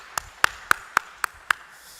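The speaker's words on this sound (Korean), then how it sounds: "하나님께 다시 한번 영광의 감사의 박수를 드립니다" A church congregation at a Sunday afternoon worship service claps in unison, six sharp, evenly spaced claps ringing out clearly with nothing else in between.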